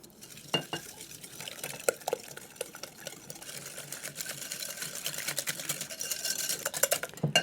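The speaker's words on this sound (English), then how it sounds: "now I'll whisk the eggs in" Eggs being whisked by hand into butter and sugar scraped down in a bowl for an 1850s curd pudding, a steady close scratchy whisking that runs the whole time with scattered sharper clicks against the bowl, and no talking.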